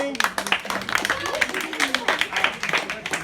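A children's team claps in a tuition-class word game, rapid uneven clapping from several hands close by, mixed with voices and chatter throughout.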